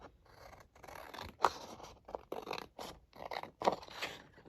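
Scissors cut down the side of a laminated paper envelope in a run of crisp, close snips and scraping crunches, fairly quiet, with no voices.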